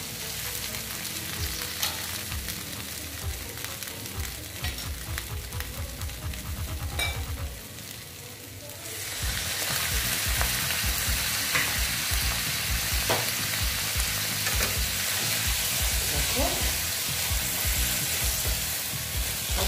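Sliced pointed gourd sizzles steadily in a hot pan with oil, a turner scraping and stirring through it in a quick rhythm, loud and close, with no talking over the frying.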